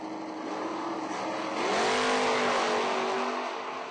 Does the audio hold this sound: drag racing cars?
yes